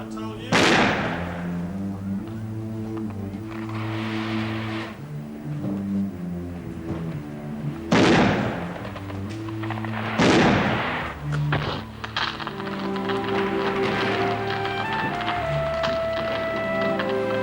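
Fireworks bursting outdoors, several sharp loud explosions crackling over a steady background of music, with thumps recurring at intervals through the scene.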